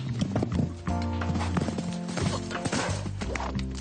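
A young horse jumping in a show-jumping setting gives a rapid run of loud, close hoofbeats with thuds and clatter, densely packed throughout.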